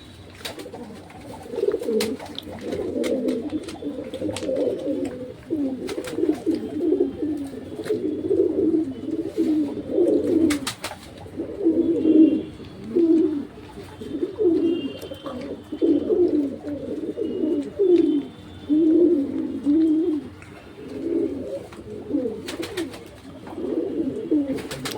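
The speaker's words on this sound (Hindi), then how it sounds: "और कबूतर भी बड़े सुकून से खा रहे भाई।" Pigeons coo steadily in soft, low, throaty phrases while feeding, close by and continuous, with occasional light clicks.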